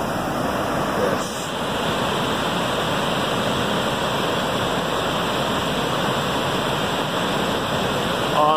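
Waterfall in the Grottos day use area of the White River National Forest, Colorado, near Aspen: a steady, loud, unbroken roar of falling water from start to finish.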